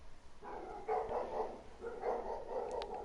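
Dogs barking in the background, a few faint, muffled barks and yips in short clusters, distant and quiet.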